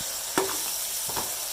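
Masala with ginger garlic paste frying in a pan, a steady bright sizzle with two soft scrapes of stirring cutting through.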